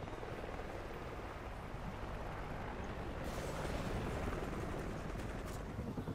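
A helicopter arriving in the video game Ghost Recon, a sustained low rotor rumble under dense game noise that swells louder midway, with no speech.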